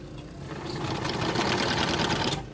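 An industrial sewing machine stitches blind hems on drapery fabric in a Marietta, Georgia drapery workroom, a steady, rapid mechanical whir that runs continuously and grows slightly louder midway.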